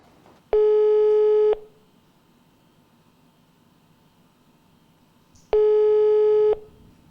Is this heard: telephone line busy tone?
yes